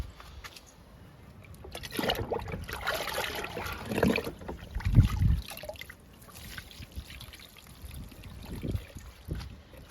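Liquid fertilizer poured onto potted plants, including a jamun sapling: soft, fairly quiet trickling and splashing in a few uneven pours, with faint background noise.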